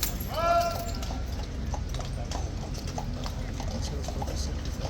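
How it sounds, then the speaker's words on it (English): Police horse hooves clopping on pavement in a busy tourist area, steady rhythmic clip-clop passing close behind, over constant crowd chatter and street noise, with a brief whinny-like sound at the start. "Oh, so police horse is clopping behind me."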